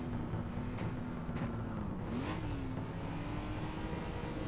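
A Gordini T24S 1953 sports race car in the rFactor 2 sim at Bremgarten idles with a steady engine tone, then revs up in a few short blips with a rising sweep near the end, fairly faint.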